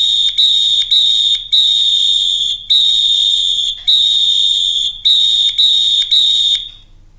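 A survival whistle sounds SOS in nine shrill, close blasts: three short, three long and three short, loud and alone with no talk.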